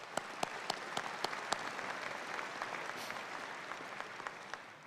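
Audience applause at a University of Idaho fall commencement ceremony, a steady wash of many hands clapping at moderate distance with a few sharper individual claps standing out, continuing evenly throughout.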